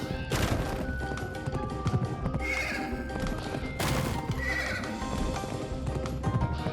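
A horse in the Pumpkin Jack video game lets out two loud, shrill whinnies over steady clip-clop hoofbeats, backed by game music and effects, with no talking.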